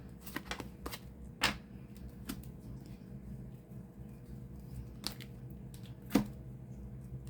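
Sharp, scattered card slaps and taps as a shuffled deck of tarot cards is dealt into four piles on a table, isolated clicks against a quiet background hum.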